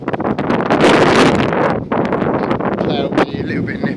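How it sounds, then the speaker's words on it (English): Strong wind buffets the microphone beside the Guadalhorce river, a loud continuous roar with gusts that dip briefly before surging back, while someone talks faintly underneath. "Very windy, so you might not be able to hear me."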